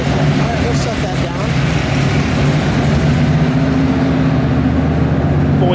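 A 1967 Plymouth Belvedere GTX with a 426 Hemi engine runs at a steady, loud idle, its deep rumble continuous throughout while people talk nearby.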